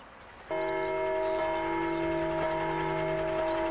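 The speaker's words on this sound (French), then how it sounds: "Les cloches sonnent le tocsin" Church bells ring the tocsin on 1 August 1914 in the Somme, a sustained bronze tone that swells in after a near-silent opening and hums on with strong, steady overtones.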